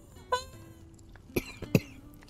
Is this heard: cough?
yes